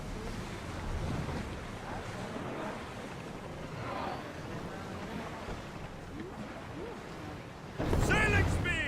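A sailing ship moves across the sea in a Greek-themed video game. Wind and waves rush steadily, voices speak over them, and a louder surge comes near the end.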